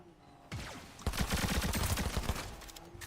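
SMG fire in Fortnite, one rapid sustained burst of close, loud shots lasting about two and a half seconds, rattling alone after a brief quiet start.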